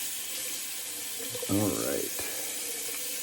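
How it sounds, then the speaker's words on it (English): A bathroom tap runs steadily for a cold water rinse while wet shaving, a constant hiss of flowing water close by, with someone briefly speaking over it. "Get this in a cold water rinse here in just a second."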